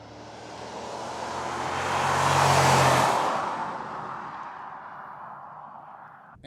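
A fourth-generation Toyota 4Runner, lifted 2.5 inches on new stiffer suspension, drives past. Its engine and tire noise swell to a loud peak mid-clip, then fade steadily, with no one speaking.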